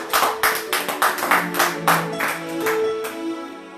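A church congregation claps in steady rhythmic unison to acclaim Jesus, about a dozen sharp hand claps then softer overlapping clapping under sustained tones.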